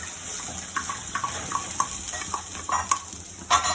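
Garlic fries in a pan, a soft sizzle under scattered stirring clinks and scrapes, with faint water-like hiss in the background and no talking.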